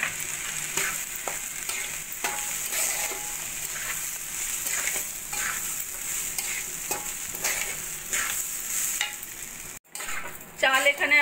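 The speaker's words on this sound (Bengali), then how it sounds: "চাল এখানে আমি 5-7 মিনিট মতো ভালো করে নাড়া দিয়ে সুন্দর ভাজা ভাজা করে নিয়েছি।" Raw rice is stirred and fried in a pan for chicken tehari, with a continuous sizzle and repeated scraping stirs in an irregular rhythm, close and steady before a brief pause.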